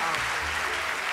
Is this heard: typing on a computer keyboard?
no